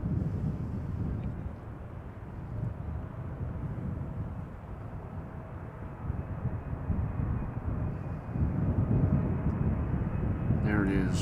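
A Boeing 777 airliner's engines rumble at Amsterdam Schiphol, heard as a distant, low, steady roar with some wind buffeting, and a brief higher sound near the end.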